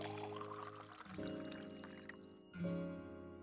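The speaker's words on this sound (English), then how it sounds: "Nika-san pours tea into a cup" Tea poured into a cup in a school room: a short liquid stream starts about a third of the way in, pauses, then resumes, close and fairly quiet over a soft, sustained musical background, with no talking.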